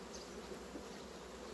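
Honeybees from a tiny colony clustered on a single hive frame hum in a soft, steady, continuous buzz, faint and even throughout with no other sounds.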